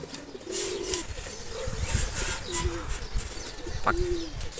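Pigeons in a breeder's collection coo in soft, repeated low calls close by, several rounded coos spaced across the stretch over a busy background.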